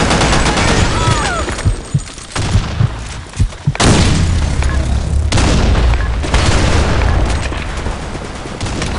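Loud video-game combat: heavy booms and bursts of gunfire crack in quick succession with dense rumbling blasts, one big grenade-like explosion standing out mid-way, no clear talk over it.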